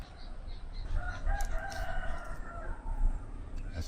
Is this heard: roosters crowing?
yes